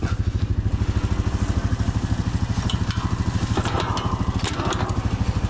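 An ATV engine fitted with a snow plow idles while warming up, a loud, close, steady rhythmic chugging with some light clatter throughout, and no voices.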